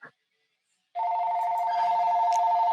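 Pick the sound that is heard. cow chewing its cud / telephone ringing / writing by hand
telephone ringing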